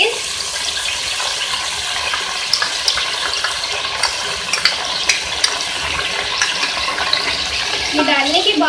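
Beef being mixed into softened onions with ginger garlic paste in a pan, giving a steady close sizzle with scattered stirring clicks and scrapes throughout, a brief wetter scraping burst near the end.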